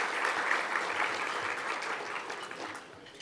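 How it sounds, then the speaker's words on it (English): Steady applause from an audience at a city business awards luncheon and expo, recognising the event staff, a dense even wash of clapping that tapers slightly toward the end. "Let's just give a round of applause to staff."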